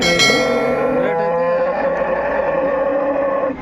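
Cattle at the weekly Punganur cow market, with one loud, close cow lowing in a long drawn-out moo that fills the whole moment, with market noise faint behind it.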